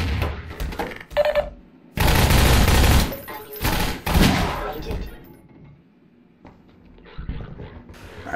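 Rapid gunfire bursts from a first-person shooter, the Half-Life 2 chapter Anticitizen One, loud and dense for a few seconds, then fainter scattered shots with a player talking over the action.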